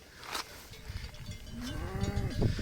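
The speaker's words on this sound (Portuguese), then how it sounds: "As vacas tinham parado tudo aqui em volta da barraca aqui" Cattle mooing near a campsite tent at night, a close, drawn-out low moo rising and falling near the end over faint background noise.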